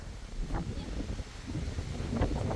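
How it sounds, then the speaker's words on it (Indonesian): Strong wind gusts across Lake Laut Tawar, buffeting the microphone in a continuous low rumble with rising and falling surges. "Anginnya kencang kali."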